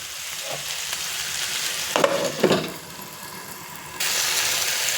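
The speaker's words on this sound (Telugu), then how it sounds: "ఈ తమలపాకులు వేగుతుంటే" Betel leaves frying in a pan for a ground chutney, a steady close sizzle with a couple of brief clinks or stirs in the middle and the frying growing louder toward the end.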